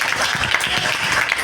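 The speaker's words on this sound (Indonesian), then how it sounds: "Boleh beri tepuk tangan sekali lagi" An audience applauding at a live music and book event, a dense burst of clapping at close range with a brief murmur of voices.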